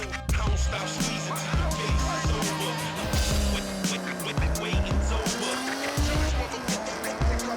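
Sport-exhaust car engine in the racing game Forza Horizon 6, revving and shifting loudly through gears with repeated tire squeals and skids, a continuous roaring drive with rising and falling pitch.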